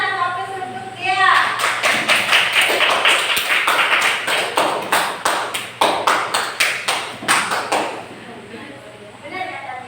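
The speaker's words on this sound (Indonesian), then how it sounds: "Tepuk tangan dan aplaus untuk Dea." Classroom applause from a group of students, a burst of sharp, fairly close hand claps lasting about seven seconds before fading, with voices talking briefly before and after.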